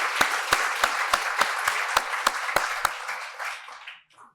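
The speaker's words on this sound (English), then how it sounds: "Let's give another round of applause for the panel" Applause for a panel at a legal services forum in Minneapolis, with regular loud claps in a steady rhythm over a softer crowd wash, fading out after about four seconds.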